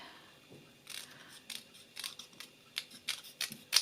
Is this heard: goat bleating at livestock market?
no